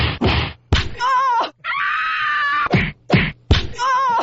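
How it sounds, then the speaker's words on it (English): Exaggerated fake punch effects like a bad kung fu movie, a series of loud, close whacks with a long drawn-out groaning scream in between, harsh and punchy with short gaps. "It fits right in with the fake punches."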